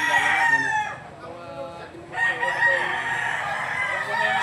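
A Spanggila gamefowl rooster at a farm in Laguna crows loudly and close, a drawn-out call that fades, then a second crow, with no talk over it.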